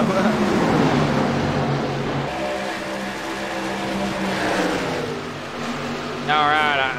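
A pack of race cars roars past on a track during an auto racing broadcast, loud engine notes rising and falling with pitch sweeps as the field goes by, a steady wall of sound with commentary-like voices underneath.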